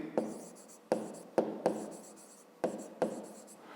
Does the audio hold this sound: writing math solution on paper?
yes